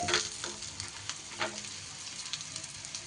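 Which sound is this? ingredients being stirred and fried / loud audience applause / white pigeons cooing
ingredients being stirred and fried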